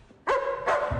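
A dog gives two loud, close barks about half a second apart, each with a strong tonal ring and a brief tail.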